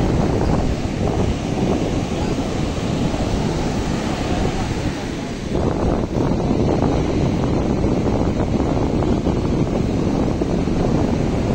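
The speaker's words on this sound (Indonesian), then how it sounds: "ombaknya cukup besar hari ini" Big ocean waves on a beach shore, a continuous loud roar of surf mixed with wind buffeting the microphone, with a brief lull partway through.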